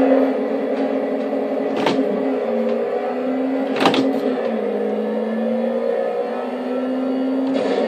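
A Toyota AE86 engine in a racing video game, holding a steady mid-pitched drone that rises and falls slightly, with a few brief sharp clicks or thumps.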